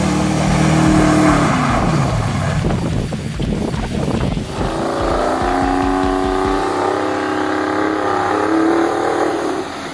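A Ford F-150 diesel truck does an off-road burnout, its engine roaring loud and close, revving hard and then settling into a steady high drone as the tires spin.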